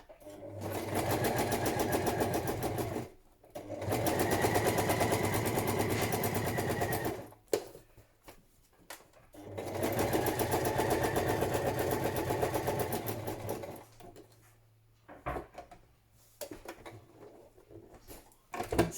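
A sewing machine stitches a padded patchwork journal cover in two long, fast, steady runs of whirring needle beats, separated by pauses filled with small handling clicks and a brief low motor hum.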